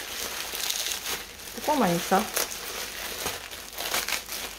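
Plastic sachet from a cross-stitch craft kit crinkling as it is handled and opened in a kitchen, loud close rustling in irregular bursts while a person speaks briefly.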